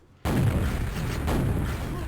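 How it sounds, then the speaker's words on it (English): A single rocket jump explosion in Quake on the dm4 map: a sudden loud blast that hits after a quiet start, then a sustained roaring rumble trailing off over two seconds. "that's a rocket jump you do off the stairs at the back of the room to come flying out"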